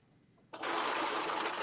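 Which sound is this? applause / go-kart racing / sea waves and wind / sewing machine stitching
sewing machine stitching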